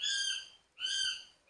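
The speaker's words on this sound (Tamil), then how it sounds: "இங்க வெளியே ஒரு பறவை மரத்துக்குள்ள வந்து ஒலி எழுப்புகிறது." A small bird calls from a tree outside during rain, two bright harmonic, hooting-like calls repeated about a second apart, fairly faint and alone.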